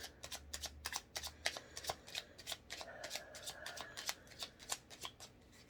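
Tarot cards being riffled and shuffled repeatedly in quick, crisp bursts, close up, with no one talking.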